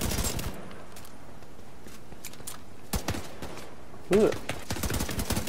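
Gunfire in The Division 2 cracks out in a few sharp bursts near the end, over a low in-game ambient bed, with a brief spoken word from a player.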